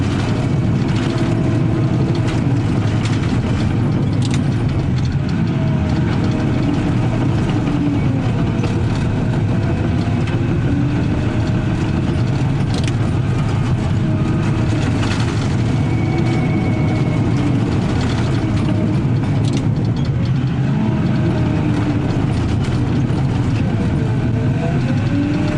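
Bulldozer engine running while backfilling drain tile, a continuous heavy low diesel drone with a steady mid-range rumble, close and constant for the whole stretch without talk.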